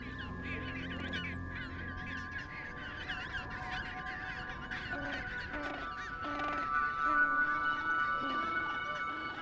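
Skuas calling on the Antarctic peninsula, harsh honking cries repeated through the clip at moderate distance, with narration over them.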